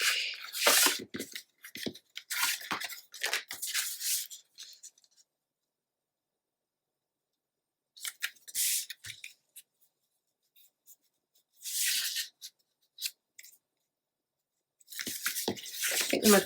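Scissors or a trimmer cut scrapbook paper in short, close bursts of crisp, raspy snipping, separated by stretches of silence as the paper is trimmed a little at a time.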